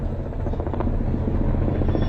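Police helicopter rotor noise, a steady dense chopping roar with a pulsing beat, loud and continuous with no talk.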